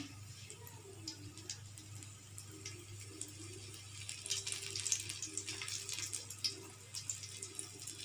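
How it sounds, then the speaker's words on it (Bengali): Egg and onion fritters sizzle steadily in hot oil, a soft continuous crackle with scattered pops that grows busier partway through, fairly faint and with no voices. "আস্তে করে ছাড়ছি আজ কমিয়ে তেলের মধ্যে দিলাম"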